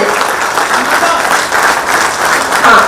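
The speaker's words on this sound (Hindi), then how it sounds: "जोरदार तालियां" Sustained applause from an audience at a Jharkhand government and Indian Bank MoU signing event, a loud continuous patter of many hands clapping, steady throughout with a slight swell near the end.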